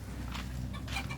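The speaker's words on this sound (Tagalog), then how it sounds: "bago na kasi itong manok na to eh" A backyard chicken gives a few short, soft clucks over a low, steady background hum.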